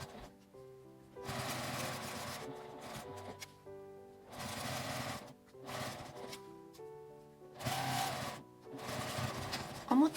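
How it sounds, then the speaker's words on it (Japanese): A sewing machine stitches the edge of fabric for a tote bag in four or five separate runs of a few seconds each with short pauses between, a close mechanical whir that stops and starts. "待ち針で留めて端を縫います。"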